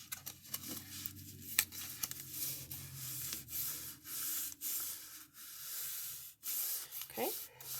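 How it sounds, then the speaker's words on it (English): Glue is rubbed and spread onto paper while making a chapstick paper purse, a close, quiet scratchy rubbing with irregular strokes and brief pauses. "Making noise with my glue."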